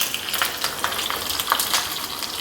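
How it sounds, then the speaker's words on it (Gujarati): Cumin and white sesame seeds crackle and sizzle in hot oil for a tempering poured over farali dhokla, a steady close frying hiss with small pops and no talking. "તેલમાં 1 ચમચી જીરું ઉમેરશું અને 1 ચમચી સફેદ તલ ઉમેરશું"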